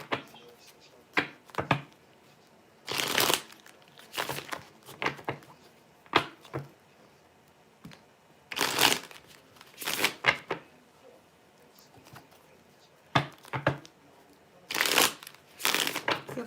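Tarot cards are shuffled repeatedly in quick riffling bursts, each a short crisp flutter, separated by quieter handling and pauses.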